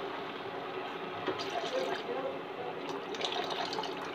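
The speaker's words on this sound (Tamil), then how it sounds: "இப்போ கொஞ்சமாக தண்ணி ஊற்றிடலாம்" A steady, continuous pour of water into a pan of potato gravy runs throughout, a soft rushing and splashing at close range with no pauses.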